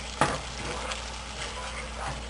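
Ground spices fry in a kadai pan for kadai chicken, giving a low, soft sizzle with a sharp utensil clank near the start and light stirring scrapes after it, fairly quiet throughout.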